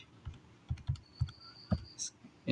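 Keys tapped on a calculator keypad to enter 98 squared, a string of soft, closely spaced clicks and presses with uneven rhythm, fairly quiet and up close with no talking.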